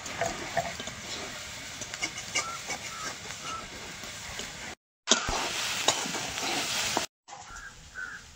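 Taro flowers frying in a covered pan, a steady close sizzle and hiss with short lid-lifting breaks where the sound drops out before resuming.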